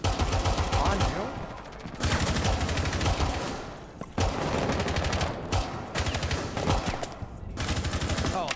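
Gunfire in Rainbow Six Siege comes as sustained, loud automatic bursts with short breaks, dense and close, broken up by brief gaps.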